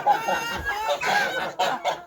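Close chickens cluck and murmur in short bursts in freezing weather around -20 degrees, a few louder squawks standing out over a quiet background.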